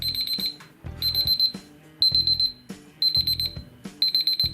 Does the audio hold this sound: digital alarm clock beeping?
yes